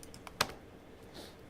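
A few quiet key taps on a computer keyboard while entering numbers, with one sharper keystroke standing out over a soft room hiss.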